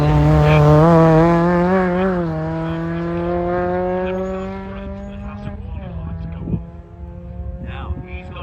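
A Mazda MX-5 screams up a hillclimb course, its engine note rising and falling through gear changes as it passes close, then fading while a commentator talks over it.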